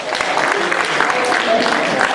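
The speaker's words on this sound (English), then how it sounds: "And by applause, how many of you have never seen a hypnosis show?" A steady wash of audience clapping at a 2013 Project Grad hypnosis show, fairly loud and continuous, with some crowd voices mixed through it.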